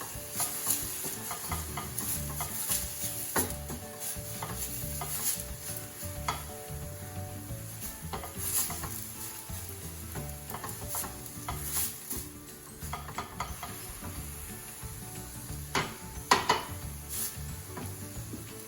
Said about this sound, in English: I'm gonna keep stirring this till it browns up.